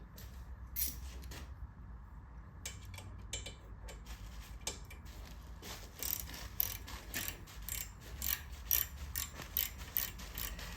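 A wrench undoing a bolt on the crash bar of a 2009 Harley-Davidson Police Special, quiet repeated ratcheting clicks in irregular bursts, close by, growing busier toward the end with no talk.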